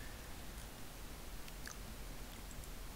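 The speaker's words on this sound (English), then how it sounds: "You heard the chewing." Faint close chewing under a dense broadband hiss, with a few soft clicks and wet mouth noises, no talking.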